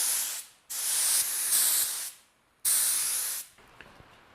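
PVA release coat is sprayed onto a body kit mold in two long, loud hissing bursts with a shorter pause between them, close up and with no talking.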